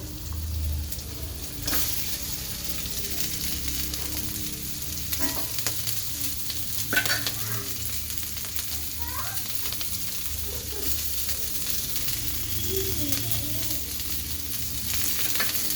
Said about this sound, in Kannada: ಕ್ಯಾಪ್ಸಿಕಮ್ನ ಹಾಕೊಂಡು ಫ್ರೈ ಮಾಡ್ಕೊಬೇಕು.